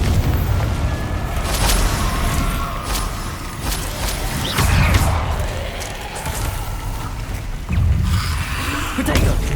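Fiery spell blasts in Hogwarts Legacy burst as a series of booming explosions, loud and close, recurring every second or two over continuous game background noise.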